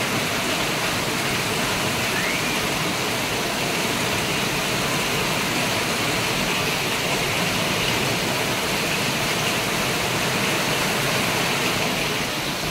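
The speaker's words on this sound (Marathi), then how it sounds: "अंधारून आलंय त्याच्यामुळं मुसळधार पाणी चालू आहे" Heavy monsoon rain pours down under a darkened sky in Surat, a dense, unbroken hiss that stays loud and even from start to finish with no voices.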